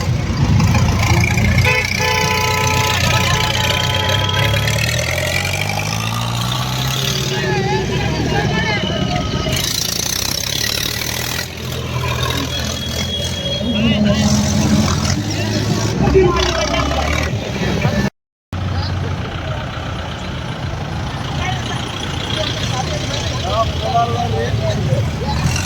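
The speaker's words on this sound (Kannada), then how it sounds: "ಒಂದಕ್ಕಿಂತ ಒಂದು ತಿಂಡಿ ಟ್ರ್ಯಾಕ್ಟರ್ಗಳು ಬಂದಾವ ನೋಡ್ರಿ" Tractors with running engines gathered at a village event in Shirabur, loud continuous diesel rumble with horn toots and passing vehicles, people talking throughout, one brief dropout near the end.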